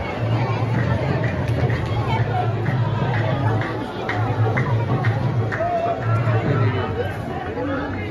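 A large crowd at the Urs fair of Hazrat Khwaja at Sarwar Sharif, a continuous dense babble of many voices with nearby chatter and a steady hum of people filling the evening air.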